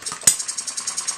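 A small hit-and-miss model engine runs slowly at a little under 500 RPM, close by, with a quick, regular puttering beat and one sharper bang.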